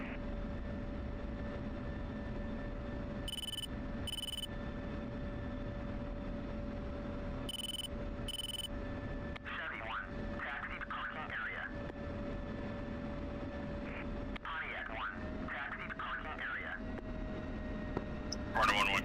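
An aircraft taxis at Kandahar airfield after landing, its engines giving off a steady drone with a sustained whine. Paired electronic beeps cut in twice, and radio chatter with cockpit voices runs over it in the later part.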